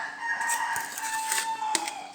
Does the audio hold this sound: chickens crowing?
yes